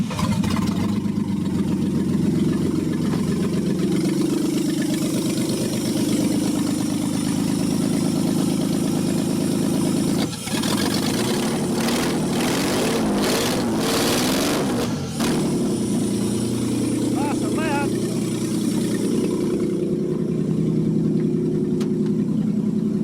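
A Holden VS ute engine, mostly run on gas, starts and settles into a steady mid-pitched idle close by, with a brief dip and a few revs partway through, then keeps running evenly.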